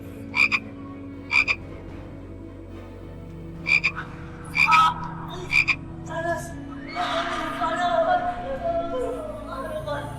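Frog croaks from a fantasy drama about a frog spirit: short, sharp, raspy croaks repeat in a loose rhythm over the first six seconds, then give way to a rougher, sustained rattle over steady background hum; no talking.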